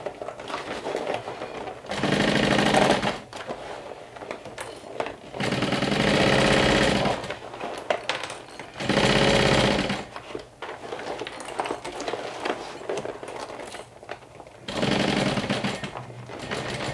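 Domestic sewing machine stitching a Haunted Mansion inspired crossbody bag, backstitching over a connector: several bursts of steady motor whir, each a second or two long, separated by quieter pauses, close and clear with no talking.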